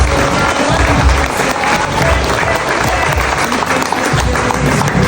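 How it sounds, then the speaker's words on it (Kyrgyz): An audience at a Kurman Ait holiday gathering in Kyrgyzstan claps in a dense, sustained round of applause that fills the space loudly and evenly, with a crowd murmur underneath. "Алкыш иретинде ыраазычылыкка кол чапкыңыздар."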